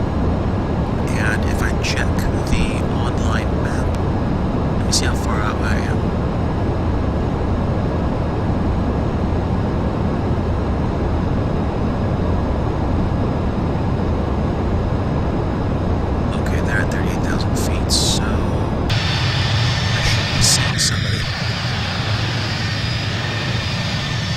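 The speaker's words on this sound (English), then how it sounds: "flying the Tenku Developer Studios 787-900 series Dreamliner from Keflavik, Iceland to Oslo, Norway" A Tenku Developer Studios Boeing 787-9 Dreamliner in cruise over the North Atlantic between Keflavik and Oslo, its engines a steady, loud broadband roar that never lets up, with a few faint clicks and a slight shift in tone near the end.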